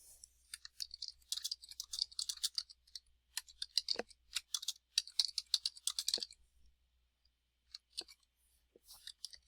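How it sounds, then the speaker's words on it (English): Keys clatter on a computer keyboard as a quiz question is entered, quick bursts of close, crisp clicks with brief pauses between runs, no talking. "I'm going to type my question here."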